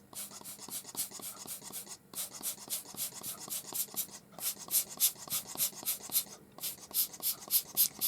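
An Arteza Everblend alcohol ink art marker drawn through a stencil, a close rhythmic scratchy squeak of repeated strokes in short bursts with brief pauses, no voices.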